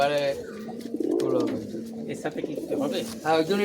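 A pair of Allahabad Kaldam pigeons coo in rolling, throaty bursts close by, while someone talks over and between the calls.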